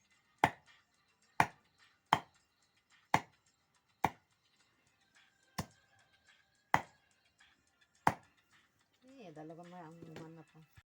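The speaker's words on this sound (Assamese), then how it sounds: "জলকীয়া ভাজিৰ কাৰণে মিহি মিহিকৈ কাটি আছে দেই মাংস।" Local chicken meat is chopped finely on a board with a blade. There are eight sharp, evenly spaced knocks close by, with quiet gaps between them, and a voice follows near the end.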